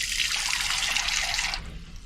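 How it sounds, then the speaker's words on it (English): Tap water runs steadily into a bowl of lemon juice in a kitchen, a close, continuous splashing trickle that stops abruptly near the end. "a little water, you can probably hear it anyway"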